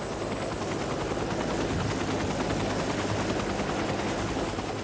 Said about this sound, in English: A life flight helicopter transported Trista the 17 miles to Eggleston Children's Hospital